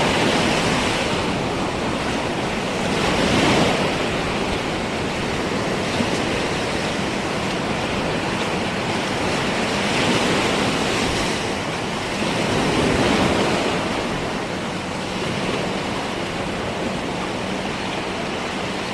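Big ocean waves crash and surge near Balagbag Falls in Real, Quezon, a steady roar of surf with swells that rise and fade every few seconds, close and loud with no talking.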